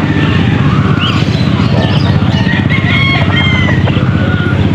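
Young gamecock stags crow at a busy pet market in Angeles, Pampanga, the calls repeating close by over steady crowd noise and background chatter.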